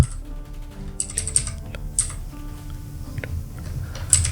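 Clicky keystrokes on a computer keyboard, typed in short bursts and scattered single taps, close and fairly crisp, with no talk over them.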